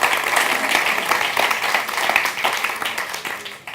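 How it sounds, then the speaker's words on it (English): Audience applause for a conference panel fills the room in a dense, steady wash of clapping that holds strong before thinning slightly toward the end. "Can I have a round of applause for our panel,"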